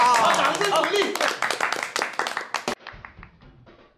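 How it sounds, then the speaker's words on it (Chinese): A small group claps briskly in an indoor room, with voices over the first part. The close, sharp claps thin out toward the end. "好，好，掌声鼓励。"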